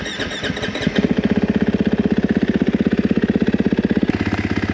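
A 2023 KTM 450 XCF dirt bike engine turns over and catches, then settles into a loud, close, rapid thumping idle with a steady pulsing beat, dropping in pitch near the end.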